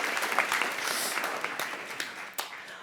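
A festival audience applauds a departing speaker, a dense spread of close hand claps holding steady for a few seconds before thinning slightly.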